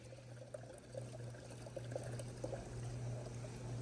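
Water poured gradually into a brand-new, broken ice cream machine, a steady trickling pour over a constant low mechanical hum, close and moderately loud throughout.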